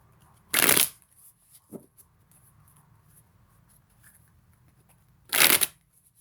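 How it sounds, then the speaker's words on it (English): Two brief bursts of tarot cards being shuffled, riffled close by with a quiet pause between them and a faint tap in the middle. "we'll do partial shuffles here before I start recording and then after I start recording"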